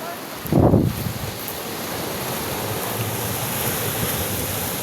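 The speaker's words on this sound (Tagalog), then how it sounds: "lakas-lakas talaga ang unos ng tubig dito sa may libungan" Strong rushing water current of a river at Libungan, a loud continuous roar mixed with heavy wind buffeting, a brief louder gust near the start, with no clear talking.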